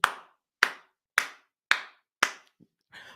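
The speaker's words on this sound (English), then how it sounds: "This is complete cheek clapping." A run of five sharp, close slapping claps at an even pace about half a second apart, each snapping and fading fast, followed by a small tap and a faint rustle.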